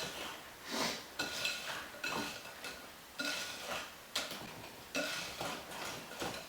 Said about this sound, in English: Fold that in using the whisk.